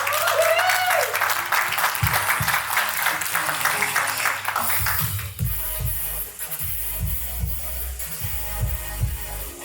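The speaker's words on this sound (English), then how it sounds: "Please, a warm round of applause," Audience applause at the FRANK AI launch event, a dense crowd clapping steadily through the whole stretch, with some low thumps and shuffling underneath.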